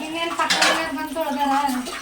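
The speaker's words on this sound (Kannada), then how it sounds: "ಇವ್ರ ಮನೇಲಿ ಇವರೇ ಪಾತ್ರೆ ತೊಳಿತಾ ಇದ್ದಾರೆ" Dishes, pots and cutlery clink and clatter under running water as someone washes up at home, with a few sharp metallic knocks over a couple of seconds while a person talks nearby.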